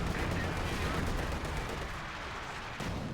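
A pintle-mounted machine gun fires in a WWII real-time strategy game, heard as dense, continuous battle noise with rapid gunfire and distant blasts, loud at the start and easing slightly toward the end.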